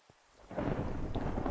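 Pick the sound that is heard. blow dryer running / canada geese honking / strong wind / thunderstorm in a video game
thunderstorm in a video game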